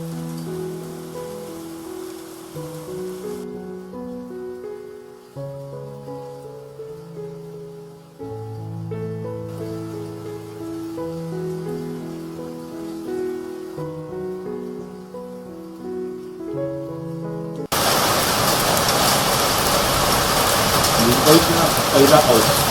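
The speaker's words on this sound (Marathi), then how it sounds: "बरं वाटतंय सकाळ सकाळ इतका जोर जोरात पाऊस पडतोय ना" A heavy morning downpour in Mumbai, the first rain of the season, bursts in as a loud, dense, steady roar for the final few seconds after a long stretch of music.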